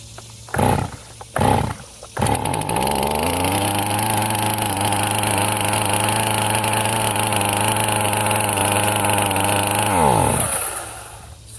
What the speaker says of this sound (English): you saw how easy that started, and it actually went really well for a cold saw.